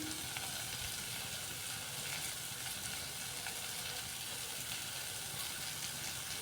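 Potato, onion and tomato fry with ground coriander, red chilli powder and salt, making a steady, even sizzle with faint stirring throughout.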